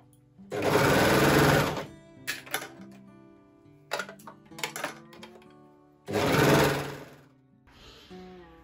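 A sewing machine stitches a hem band onto a sleeveless sweater: two loud, steady runs of fast stitching, separated by brief clicks and handling of the fabric, with a softer mechanical whir at the end.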